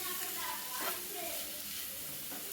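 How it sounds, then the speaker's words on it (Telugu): Grated coconut and carrot sizzle and crackle in a pan while being stirred, a soft continuous frying hiss with light scraping, heard close. "సన్నగా తరుముకున్న కొబ్బరి తురుము 1/2 కప్పు వేసుకొని కలిసే వరకు ఇలా తిప్పుకోవాలి"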